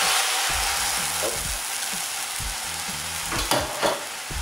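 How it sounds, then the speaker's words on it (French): Sugar and vinegar hitting a hot pan over high heat, a steady broadband sizzle with a few clinks and stirring knocks, close and continuous with no talking. "Donc là, je vais mettre mon sucre et mon vinaigre."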